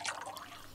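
A brief splashy trickle of liquid being poured in the Toca Boca game, a short bright gurgle that fades quickly.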